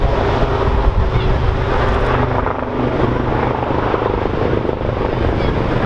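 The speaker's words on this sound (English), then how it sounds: "the Lynx helicopter, how to fly the Wildcat." A Lynx or Wildcat helicopter flies an air show display at the Bournemouth Air Festival, its rotors producing a loud, steady roar with wind buffeting the microphone and a commentator faintly audible beneath.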